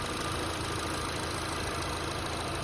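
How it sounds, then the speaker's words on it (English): A 2022 Honda HR-V with a 1.8 liter engine idles, a steady, even hum with a constant high whine on top, unbroken and close to the microphone. "There's the Honda. And the sound of the engine."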